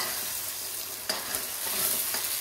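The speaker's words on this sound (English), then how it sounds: "I'm cooking it on a high heat, so I can feel it." Sea bass fries in a pan over high gas heat, a steady loud sizzle with a few light stirring scrapes, close and continuous.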